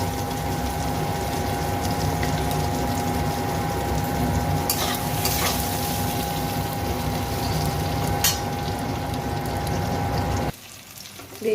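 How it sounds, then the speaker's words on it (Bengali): Salted, turmeric-dusted eggplant frying in a pan, a steady loud sizzle with a few sharp spatula clinks, cutting out near the end. "বেগুনটা আমি ভাজে নেব"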